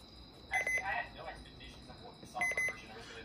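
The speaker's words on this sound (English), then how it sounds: "the button beeps sound exactly like the 74200's button beeps" Button beeps from a Midland WR300 Version 8 weather radio, two short clusters of bright electronic chirps about two seconds apart, fairly faint over a quiet room hiss.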